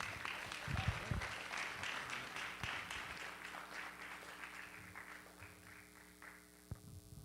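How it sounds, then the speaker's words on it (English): Faint audience applause at a town hall symposium honouring an award recipient, a steady patter of many hands that thins out toward the end, with a few louder thumps. "Let's give a round of applause to Caden Parker."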